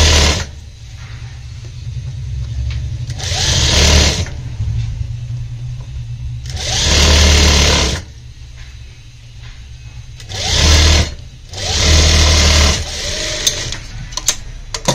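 Electric sewing machine stitching a zip onto the back of a Punjabi suit, running in several loud, steady whirring bursts of one to two seconds, separated by a lower hum while the fabric is repositioned.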